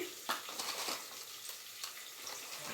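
A piece of cinnamon and other whole spices crackle in hot oil, a bright steady sizzle close up with a few sharper pops and light stirring scrapes, no voices.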